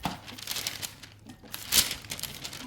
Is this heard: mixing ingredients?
no